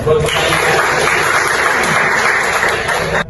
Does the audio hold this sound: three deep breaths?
no